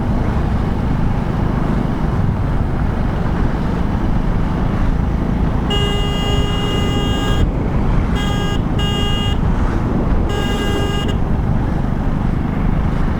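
Steady traffic roars along a mountain road near Srinagar for about thirteen seconds, with several vehicle horns honking in bursts partway through, loud and close.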